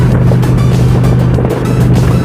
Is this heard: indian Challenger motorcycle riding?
yes